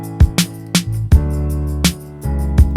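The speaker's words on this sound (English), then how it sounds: "Bass guitar coming in now," A bass guitar plays held low notes that track the chord changes in a pop production recreating a song in Logic Pro X, with punchy drum hits and chords over the top, loud and up front.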